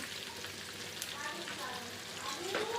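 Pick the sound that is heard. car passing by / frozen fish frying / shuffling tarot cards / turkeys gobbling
frozen fish frying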